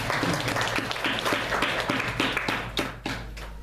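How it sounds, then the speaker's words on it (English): Brief burst of audience clapping at a Toastmasters featured speeches session, a dense patter of hands that tapers off after a few seconds, fairly close and moderately loud. "So a big round of applause for Toastmaster Ravi"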